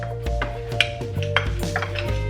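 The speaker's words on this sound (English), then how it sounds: "add it to the dry mixture and mix it well" A spoon works liquid into a dry vegan apple sage sausage mixture in a dish, giving a run of light clinks and taps against the bowl at an uneven stirring rhythm, close and fairly quiet.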